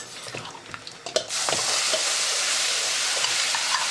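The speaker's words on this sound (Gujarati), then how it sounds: "હવે આપણે નાખી દઈએ છે મસાલો" Spice mix tipped into a frying pan for stuffed brinjal: a few light clinks and scrapes, then a sudden loud burst of sizzling oil that stays steady and close while the masala is stirred.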